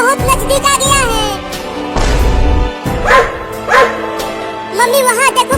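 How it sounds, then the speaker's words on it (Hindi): A cartoon dog barks repeatedly and loudly, several sharp yapping bursts spread across the scene with other cartoon sound effects and voices mixed in. "और तेज भागो मम्मी, कुत्ता बहुत नजदीक आ गया है।"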